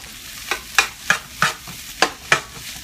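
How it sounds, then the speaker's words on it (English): Rhythmic scraping strokes of a utensil stirring fried rice seasoning with fish sauce in a pot, about eight distinct crisp scrapes spaced roughly every third of a second over a faint sizzle, close and clear with no talking. "so what we're gonna do right now is just stir this up again"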